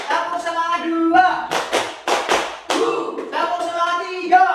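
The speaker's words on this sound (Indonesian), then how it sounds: "Tepuk semangat 1. Tepuk semangat 2." A primary school class doing rhythmic spirit clapping, several sharp clustered bursts of claps from many hands in a patterned beat, alternating with a group chanting together.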